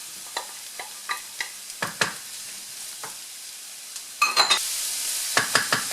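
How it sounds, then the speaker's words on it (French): Mushrooms fry in oil in a pan with a soft, steady sizzle, punctuated by a series of sharp utensil clicks and scrapes from stirring, ending in louder spitting sizzle bursts. "Une fois que ça a bien sué, je vais mettre mes champignons."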